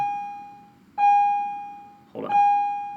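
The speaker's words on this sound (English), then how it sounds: "that's the bell" An electronic doorbell sounds two clear, loud tonal chimes about a second apart, each ringing steady and slowly fading, in an otherwise quiet room.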